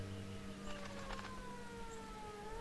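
A faint siren wails in the background of a city scene in the video game L.A. Noire, its drawn-out tone sliding slowly downward beneath a low ambient hum, with no one speaking.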